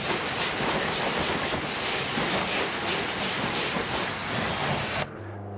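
A pressure-washer spray hisses loudly and steadily as van wheels are rinsed down during detailing, then cuts off abruptly near the end, leaving a low idle hum.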